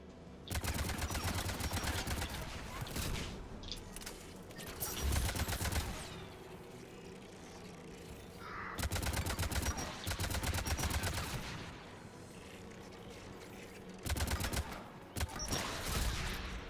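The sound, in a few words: anti-aircraft guns firing in the video game Mass Effect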